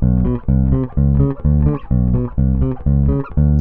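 Disco octave pattern on bass guitar, a longer low note followed by a short high octave note, repeating in a quick bouncing groove, loud and close and played alone.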